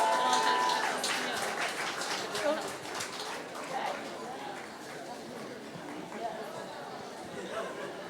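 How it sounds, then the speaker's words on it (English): An audience claps for award recipients at a GreenLatinos awards celebration; the applause is loudest at the start and thins out while people chatter over it. "give them a round of applause"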